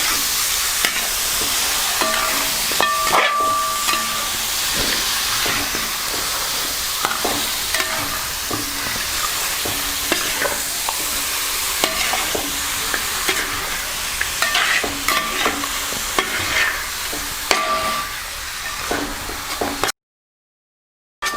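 Goat head thoran being mixed in a pan, with a constant close sizzle and frequent scraping and clanking strokes of a spoon against the metal, continuous for about twenty seconds before cutting to silence, with no speech.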